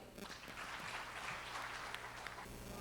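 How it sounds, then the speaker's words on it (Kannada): Applause from an audience at a state-level Kannada conference of HR professionals, a distant, faint wash of clapping sustained for a few seconds. "ಬನ್ನಿ, ಜೋರಾದ ಚಪ್ಪಾಳೆ"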